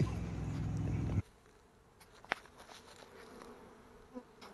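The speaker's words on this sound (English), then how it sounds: "rehiving the bees, suitless and shirtless" Honey bees during rehiving, a loud close buzzing hum for about a second that then drops away, leaving faint background noise and a few small knocks.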